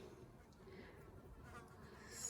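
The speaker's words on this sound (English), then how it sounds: "So I've got a fly buzzing around in my room." A housefly buzzes around an indoor room, a faint, steady drone that continues low in the background throughout.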